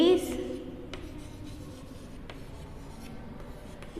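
Marker or chalk writing on a board during a school science lecture, a steady faint scratching rub running throughout with a few brief taps, close and alone without speech.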